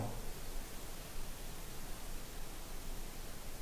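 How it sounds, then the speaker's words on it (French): White noise plays from a device inside an abandoned house, a steady, even hiss spread across the whole range with no change in level and no other sounds. "Ce qu'on appelle un bruit blanc, c'est le bruit que vous allez entendre."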